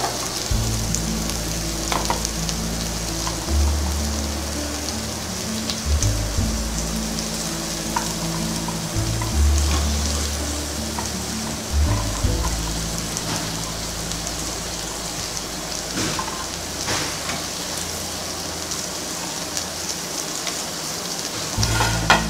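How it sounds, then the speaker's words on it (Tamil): Vegetables stir-fried with softened tomato in a pan for a vegetable coconut milk pulao, giving a steady close sizzle and frying hiss with occasional stirring scrapes, no voices. "இந்த காய்கறிலாம் இப்போ சேர்த்துக்கலாம்."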